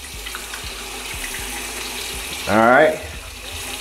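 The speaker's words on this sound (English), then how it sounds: "Let me get a nice little lather here." Bay rum bar soap lathered by hand under a running tap, faint rubbing first, then a loud short gush of water into a sink near the end, with a brief spoken word.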